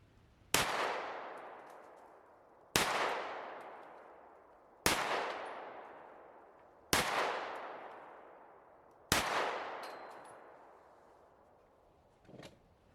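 Five loud, sharp gunshots from a short-barreled gun firing lead-free Hevi Duty bullets, evenly spaced about two seconds apart, each with a long decaying echo, and a faint click near the end.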